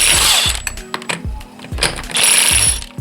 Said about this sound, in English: But I'll try first with a nut buster